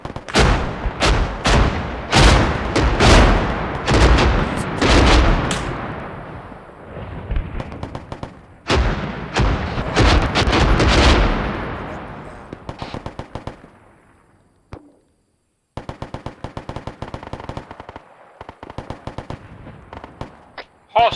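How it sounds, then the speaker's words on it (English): Heavy gunfire and incoming fire in a military video game set in the Vietnam War: loud, dense bursts of shots and blasts, a lull, then a stretch of rapid clipped automatic fire. "Incoming fire, boys."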